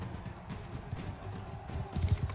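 A horse's hooves clip-clop at a steady pace in Mount & Blade II: Bannerlord. The thuds are low, soft and fairly close, and grow a little heavier toward the end. No one speaks.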